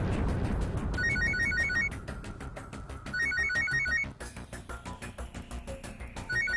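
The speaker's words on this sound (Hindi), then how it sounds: "जी फोन घंटे बज रही है जी।" A telephone bell rings in repeated bursts of trilling, loud and close, with some background noise between rings.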